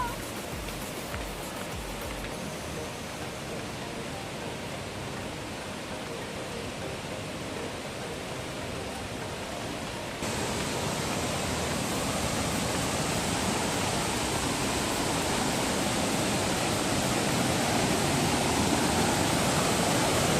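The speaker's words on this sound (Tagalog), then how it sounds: "Ito na siya, guys! Yung Estrella Falls!" Estrella Falls in Balabac, Palawan pours in a steady, dense roar of falling water, broadband and constant, swelling louder midway as it is approached, with no talk over it.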